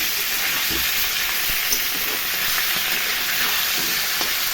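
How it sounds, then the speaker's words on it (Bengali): Salted, turmeric-coated fish heads fry in a pan, giving a steady, dense sizzle that holds without a break, close and fairly loud, with faint clinks now and then and no voices. "মাছের মাথাগুলো ভালো করে ধুয়ে নুন হলুদ মাখিয়ে ভেজে নিচ্ছি কড়া কড়া করে"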